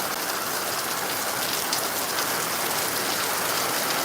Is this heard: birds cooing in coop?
no